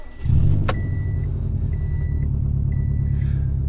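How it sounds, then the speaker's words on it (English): A 2006 Subaru WRX STi with a catless exhaust and external wastegate drives by up close with a deep, throaty exhaust rumble that holds steady and loud. A brief metallic click sounds near the start. "It might be a little bit louder because I have a catless exhaust."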